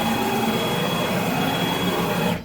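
Onefinity CNC router gantry traversing across its rails, a steady mechanical whir with a faint high whine, moderately loud and continuous before cutting off at the end, no talking.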